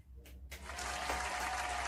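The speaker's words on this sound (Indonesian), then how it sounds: "Tepuk tangan dulu buat Marie Curie dong." A small classroom group claps faintly during a teaching session, a soft, dense patter that builds after a brief pause and holds steady.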